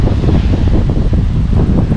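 Strong wind buffets the microphone in a constant, loud roar by a lake shore at Taupo, New Zealand, with a faint wash of surf beneath it.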